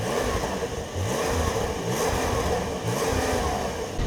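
A Porsche 992 Carrera 4S cabriolet engine revs repeatedly against a 3500 rpm limiter, a loud, steady mid-pitched drone rising in regular pulses about once a second, close by with no talk.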